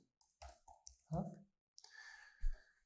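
Mouse button clicks on a computer during a webhook setup demo, a few short, sharp taps spaced irregularly over quiet room tone.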